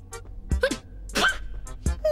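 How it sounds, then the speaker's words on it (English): An animated cartoon character gives a few small, quick, high-pitched sneezes in short bursts, quiet and close, with brief gaps between them. "Aw, that's your sneeze?"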